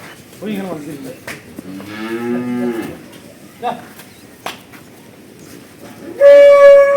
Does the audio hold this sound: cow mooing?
yes